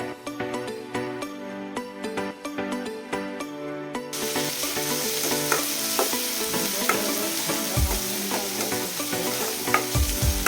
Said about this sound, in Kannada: ಹಂಗ ಸ್ವಲ್ಪ ಅರಿಶಿನ ಹಾಕೊಂಡ ಫ್ರೈ ಮಾಡ್ಕೋರಿ